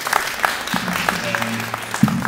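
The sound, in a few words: town hall audience applause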